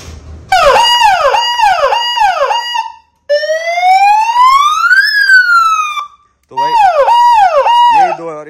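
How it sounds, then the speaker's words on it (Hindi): A loud 30-watt electronic siren hooter on a Mahindra Thar cycles through a rapid wailing yelp, pauses, sweeps in one long rising tone, then returns to the fast warble. "30-30 वाट का ये सायरन है"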